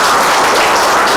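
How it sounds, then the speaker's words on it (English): Lecture audience applauding after a talk on Amur Falcon migration, a brief, loud burst of dense clapping filling the moment with no voices. "So can we have a big round of applause for Dr."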